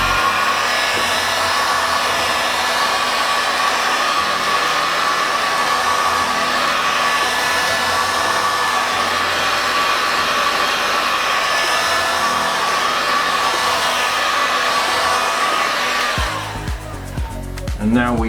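A hair dryer blows air steadily and loudly to dry wood grain paint effect made with yellow paint, a continuous whooshing roar that cuts off near the end.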